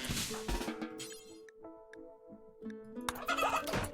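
Fowl clucking and gobbling sounds come from a chicken in the colony-simulation game RimWorld, a few short calls heard faintly over a quiet tonal game soundtrack.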